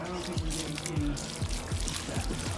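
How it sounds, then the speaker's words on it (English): Warm water pours from a black garden hose onto a lawn outdoors, a steady, close splashing stream with faint rhythmic spattering throughout. "He's got a black hose running"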